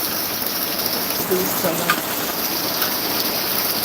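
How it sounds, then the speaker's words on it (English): Rain falls steadily in a garden as a dense, even hiss, heard from under an umbrella, while a voice speaks briefly partway through. "It's raining in my garden oasis."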